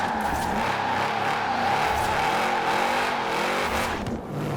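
A stock 2012 Shelby 1000 in Forza Horizon 4 revs hard and skids its tires while drifting, with a loud, continuous engine drone and tire squeal throughout, the engine briefly bogging near the end.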